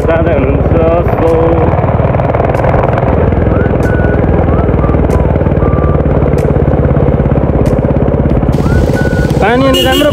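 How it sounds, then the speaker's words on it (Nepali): A Royal Enfield Bullet motorcycle rides on the road near Phidim, its exhaust a loud, steady, close-up rumble mixed with wind noise that never lets up. Brief talking rises over it near the end. "बुलेटको साइलेन्सर पड्केर मेरो बोली नबुझिन सकिन्छ"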